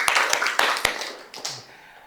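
A morning lecture audience gives a brief round of hand claps: several sharp, separate claps close by, loose and uneven, then fading out.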